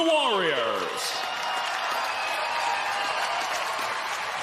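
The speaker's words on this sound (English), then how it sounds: "let's have a round of applause for these two warriors" Applause and crowd noise for two bare-knuckle fighters at the end of a five-round bout, a steady sustained wash of clapping that follows a ringside announcer's voice at the start.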